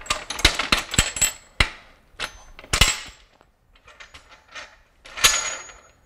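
Metal wing nuts being cranked tight on the lid of a wood stabilizing vacuum chamber, giving a close series of sharp clicks, knocks and ratcheting scrapes in irregular bursts, with short pauses between turns.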